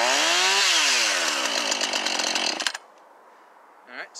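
A Husqvarna 445 chainsaw fires up loud and close on a cold winter start, its engine revving high and steady for a couple of seconds before cutting off abruptly, leaving near quiet and a faint brief sound.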